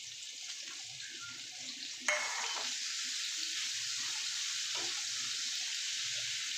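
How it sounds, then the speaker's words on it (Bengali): Chopped onion and slit green chillies frying in a pan, with a sudden burst of sizzling as they hit the hot oil and a steady crackle after that. "পেঁয়াজটা একটু ভালো করে ভাজা ভাজা করে নেবো একটু নরম করে"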